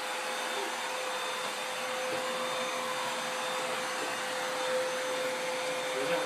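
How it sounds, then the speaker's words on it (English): A vacuum cleaner with a steady whining drone runs close and continuously, used for vacuuming a ceiling. "No, you have my vacuum. I do have your vacuum."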